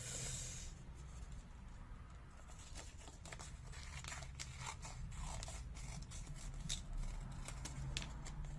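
Scissors snip rapidly through paper, cutting out bat wings for a children's Halloween craft, in a quick, uneven series of crisp cuts, close by, over a steady low rumble.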